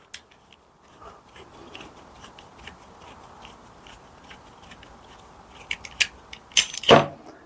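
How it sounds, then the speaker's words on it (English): A pipe cutter slides onto plastic pipe in a quiet room, then cuts it off with a few sharp clicks and a louder crunching snap near the end. "get your pipe cutter, slide it onto your pipe,"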